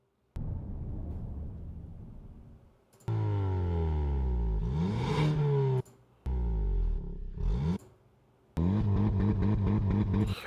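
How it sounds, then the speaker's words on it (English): Hyundai Kona car engine sounds in several bursts, each revving and swelling in pitch before cutting off abruptly, with short silent gaps between them and a final sustained rumbling burst. "specifically the Hyundai Kona engine sound, specifically this, like this kind of sound"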